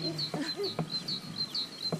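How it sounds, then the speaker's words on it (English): Many birds call near a rural property, with repeated high chirps and tweets over a steady background of lower calls, continuous and fairly close. "Look at all those birds making noise."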